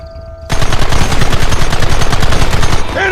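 Sustained rapid gunfire in the video game Red Dead Redemption, a loud, continuous machine-gun-like rattle of dense overlapping shots that starts abruptly and runs for about three seconds.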